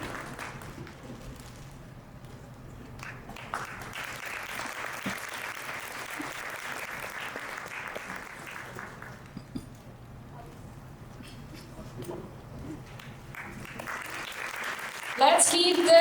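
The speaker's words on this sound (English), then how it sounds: "Audience, let's welcome them with a big round of applause." Audience applause at a women empowerment conference in Edmonton, Alberta, a steady crowd clapping that swells and fades across the room, with a host speaking over it at times.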